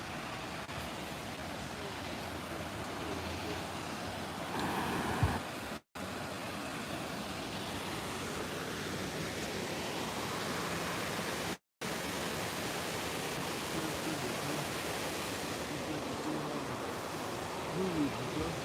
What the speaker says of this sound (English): the waterfall comes out into a little pool and then comes down the hill here